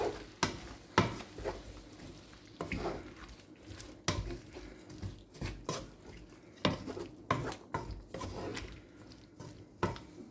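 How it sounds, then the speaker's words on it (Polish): A spoon stirs thin-sliced chicken and finely cut carrot in a frying pan, with repeated scraping knocks against the pan at an uneven rhythm over a soft sizzle. "mieszamy"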